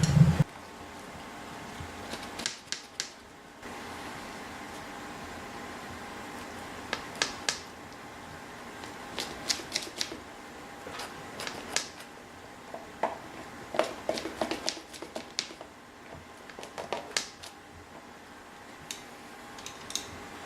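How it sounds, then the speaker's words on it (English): A pizza cutter slices through a mapo tofu pizza in scattered bursts of short, crisp ticks and scrapes, faint and close, separated by quiet pauses, with no voices. "Just gonna cut this up into our traditional pizza slices. Let's get my pizza cutter right here."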